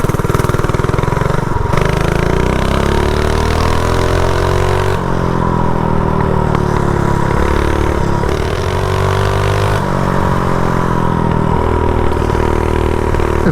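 Custom minibike fitted with a GoPowersports front end roaring at full throttle close by, its small engine buzzing loudly and steadily with repeated pitch rises and drops as it shifts and accelerates along a canal.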